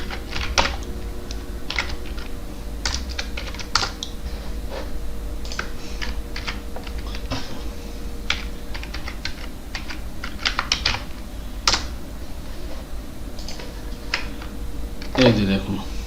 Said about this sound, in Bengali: আমি আরেকটা লিখি